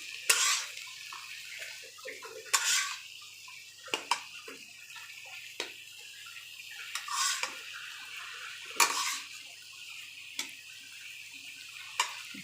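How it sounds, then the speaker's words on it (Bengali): Small radish and bamboo-leaf dried fish being stir-fried with ginger, garlic and spices in a pot, with intermittent scraping and clinking of a spatula against metal and soft sizzling, close and moderately quiet, no talk. "এখন আমি ভালো করে কষিয়ে নিই"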